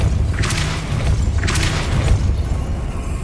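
Depulso spell cast in Hogwarts Legacy: two whooshing, booming blasts about a second apart, close and loud over a rumbling game background.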